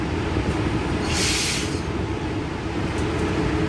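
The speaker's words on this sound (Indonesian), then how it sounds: "Kita telah masuk ke dalam stasiun Bandara Internasional Minangkabau atau stasiun BIM." A train pulling into Minangkabau International Airport station gives a steady, loud rumble of wheels on rails with a brief high squeal partway through, heard from on board with no talking.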